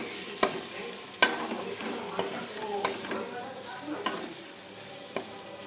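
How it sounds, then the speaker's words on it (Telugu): A spoon scrapes and stirs coriander powder into a sizzling capsicum curry in a pan, with several sharp clanks against the metal over a soft steady frying crackle, close up and without speech. "ఇప్పుడు కొంచెం ధనియాల పొడి వేద్దాం. దీన్ని కలుపుదాం."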